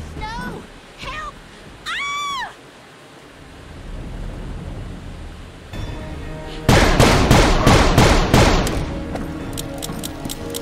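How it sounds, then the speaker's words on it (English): Bursts of rapid gunfire crackle loudly, close and dense, after whistling, sweeping sound effects and voices, in a cutscene from the video game Call of Juarez. "Gunshots."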